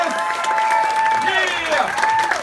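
Audience applause and cheering for Marilyn Chris at a stage awards event, a dense wash of clapping with whoops throughout, loud and continuous.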